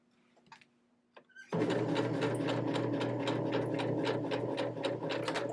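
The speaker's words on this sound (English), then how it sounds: "when I stitch across here, I'm going to back stitch a couple of times" After a few soft clicks, a sewing machine starts up and runs steadily at close range, its rapid rhythmic needle chatter back stitching across ribbon on a small hexagon fabric keychain, with no talk.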